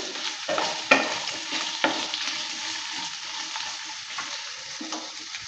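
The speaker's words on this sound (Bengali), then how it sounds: "আলুটা 2 থেকে 3 মিনিট সময় নিয়ে ভালো করে একটু ভেজে নেব লাল লাল করে" Potato pieces fry in hot oil in a pan, a dense steady sizzle up close, with repeated spatula scrapes and soft knocks as they are stirred.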